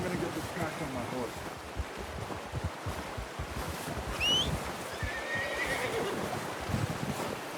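A horse whinnies briefly in the video game Red Dead Redemption 2, over a busy outdoor background of wind and shuffling movement, with faint talk nearby.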